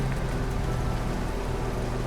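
Steady rain pours down over muddy trench ground in a video game, a dense, even hiss with a low rumbling undertone throughout and no voices.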